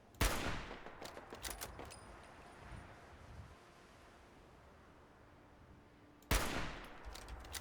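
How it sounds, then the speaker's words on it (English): Bursts of rapid gunfire in Fallout 4 survival mode, a loud volley at the start and another near the end, with a sustained noisy wash between them and no talking. "That was just shooting into nothing."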